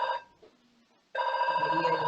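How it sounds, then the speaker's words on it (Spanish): A telephone rings with a bright electronic tone: one short burst, a pause, then a longer sustained ring, fairly close and clear with no talking over it. "teléfono sonando"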